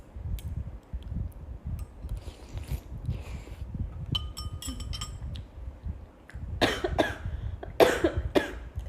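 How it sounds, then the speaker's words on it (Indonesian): A young woman coughs after choking on soup broth during a live stream, letting out several harsh, close bursts of coughing after a quieter stretch of small background noises. "Kalian doain aku batuk ya."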